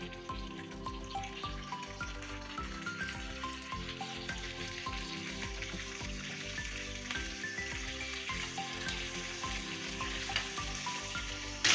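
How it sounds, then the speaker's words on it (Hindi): Spicy chicken pieces fry over a medium-low flame, a steady close sizzle with light bubbling that holds at an even level throughout. "बस हम इसी तरह से साइड चेंज करके फिर 3 से 4 मिनट के लिए अच्छी तरह से फ्राई करते हैं।"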